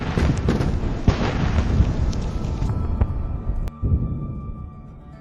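A Russian convoy vehicle detonating and burning fiercely after a HIMARS strike: a dense, continuous roar of fire and blast noise with crackling bursts and one sharp crack near the end, fading slightly as it closes.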